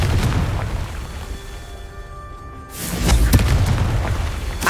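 A Confringo spell in Hogwarts Legacy on PS5 bursts into a deep booming explosion that swells partway through over a continuous rumble of game ambience.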